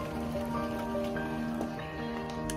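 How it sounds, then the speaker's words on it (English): Steady rainfall on a cool fall day, heard through an open door at home as a soft, even hiss of drops with faint background tones and no talking. "I can listen to the sound of the rain."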